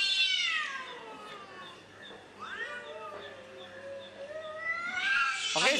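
A voice imitating cats in heat on a Romanian television show, a long wavering meow-like wail that rises and bends in pitch, yowling steadily for several seconds and ending in a sharp strained cry.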